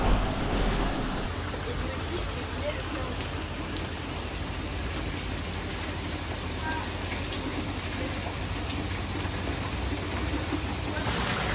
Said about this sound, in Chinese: 外面现在下大雨